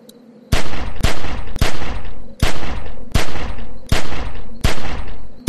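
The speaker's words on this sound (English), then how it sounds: "Remember, don't stop shooting." Gunfire from The Walking Dead video game, a loud series of sharp shots in quick bursts about every half second, each followed by a rattling tail, with no talk.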